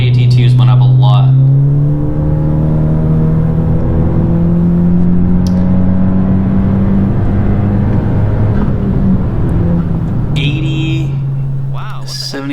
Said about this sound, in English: I'm gonna do a 4th gear pull here